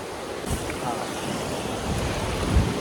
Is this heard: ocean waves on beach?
yes